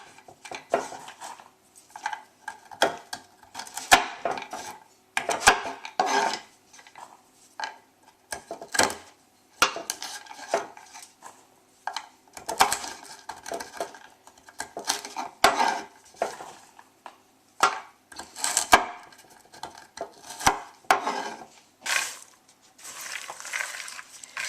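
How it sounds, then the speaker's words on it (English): Chopped walnuts being stirred into carrot cake batter in a bowl, with repeated uneven scraping and knocking of a utensil against the bowl in irregular bursts and short pauses, close and clear with no talking. "chop into small pieces and add them to your mixture and mix thoroughly"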